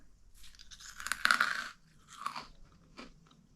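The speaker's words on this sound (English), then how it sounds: "It's definitely crunchy. It kind of melts in your mouth after you start chewing." Crunchy freeze-dried marshmallow is bitten and then chewed close to the mic, with a sharp crisp crunch followed by a few softer crunching chews that fade over a few seconds.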